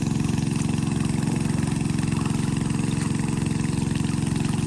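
Small engine-driven water pump running steadily at close range while drawing floodwater from a rural Isan field, a continuous droning rattle with no voices.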